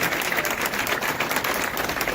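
A crowd at a talk claps in welcome for the speaker, a brief, dense patter of applause at moderate volume with no voices.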